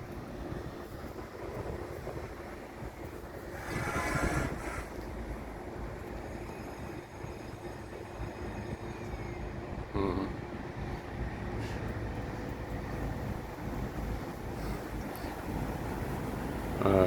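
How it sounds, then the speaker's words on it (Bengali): A large ship passes through an opened bridge, heard as a steady low rumbling drone with water and wind wash, continuous and moderately loud throughout, with brief faint voices. "এই শিপটা যাচ্ছে, এটার কারণে এই ব্রিজটা খোলা হয়েছিল।"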